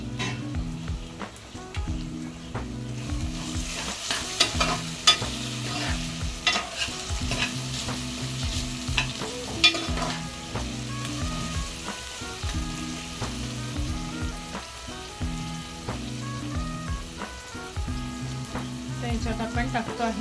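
Onion and tomato for a bottle gourd sabzi cook in a pan, with a steady close sizzle and repeated scraping stir strokes running through the whole stretch, no talking.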